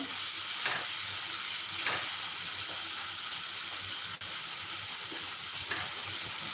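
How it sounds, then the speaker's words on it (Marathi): Spice paste for rajma frying in a pan with splashes of water added: a continuous hissing sizzle, with occasional soft scrapes as the mixture is stirred; no voices. "थोडं थोडं पाणी घालून हा मसाला परतवत राहायचा"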